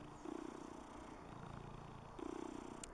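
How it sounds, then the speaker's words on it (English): A cat in Ephesus, Türkiye, purrs softly and close up in slow rhythmic rumbling pulses, with two clear swells over a faint background. "She's purring."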